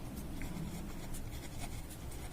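Pen scratching steadily across paper as numbers are written by hand during a class 5 maths lesson on large numbers, a continuous soft scribble with faint strokes and no talk.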